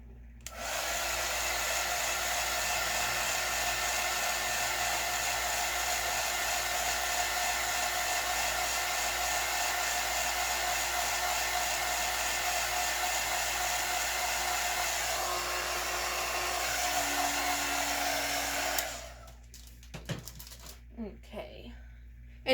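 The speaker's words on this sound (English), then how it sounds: "I'm going to take the heat gun to it too" A heat gun blows steadily on a glitter tumbler for about nineteen seconds, a loud, even hiss and whir that holds close by, then cuts off, leaving a few small handling clicks and knocks.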